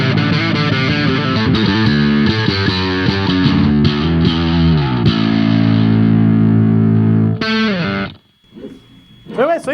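Bass guitar played through Big Muff and Boss DS-1 distortion pedals, giving a loud, thick fuzzy tone with sustained notes and a few chords, ending abruptly before quieter plucked notes ring out alone.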